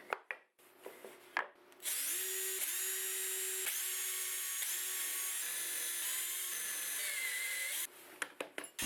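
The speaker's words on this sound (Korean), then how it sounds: "정사각형 자작나무 합판에 중심을 표시하고 6mm 구멍을 뚫어줍니다." A power drill bores a 6mm hole in a square of birch plywood, a loud steady whine for several seconds, framed by brief knocks and handling clicks before and after.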